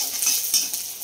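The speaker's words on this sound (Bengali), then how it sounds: "পেঁয়াজটা ভাজা হয়ে গেছে।" Onion fries in a pan with salt and turmeric as a spoon stirs it, a soft sizzle with scraping strokes close up.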